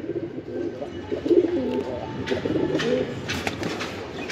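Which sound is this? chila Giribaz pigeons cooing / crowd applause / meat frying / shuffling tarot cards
chila Giribaz pigeons cooing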